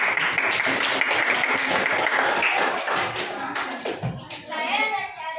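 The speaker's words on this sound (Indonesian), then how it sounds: "Tepuk tangan lagi." Classroom audience applauding steadily for several seconds, a dense wash of many hands clapping close by that thins toward the end, with faint children's voices mixed in.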